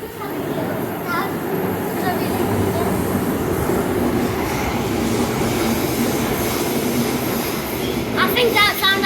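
A London Underground Central line train rumbles past at a station, a loud continuous roar with wheel and rail noise throughout, and faint squeals near the end.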